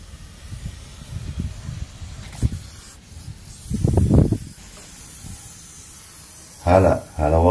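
An animal gives a few short, breathy hisses, with a louder burst near the end, amid low background rumble.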